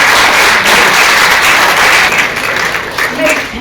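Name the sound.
audience applause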